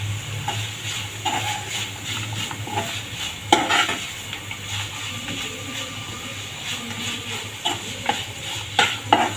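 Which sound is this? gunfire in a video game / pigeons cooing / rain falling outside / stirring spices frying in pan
stirring spices frying in pan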